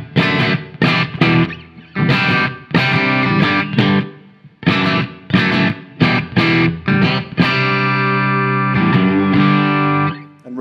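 An electric guitar runs through a BIAS amp simulator with EL34 power tubes, sounding crunchy and distorted. Loud chords are strummed in rhythmic bursts, and a long sustained chord rings out near the end.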